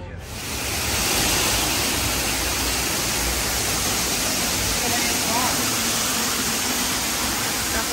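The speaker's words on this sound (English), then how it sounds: "My white noise." Steady broadband white noise, loud and close, fading in over the first second and then holding constant and unbroken.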